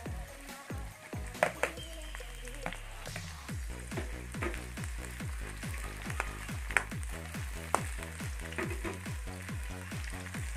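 Onion and tomato sauté in a pan for sinigang, giving a steady near sizzle and fry hiss. Rhythmic stirring scrapes and taps repeat throughout, with a few sharper clinks.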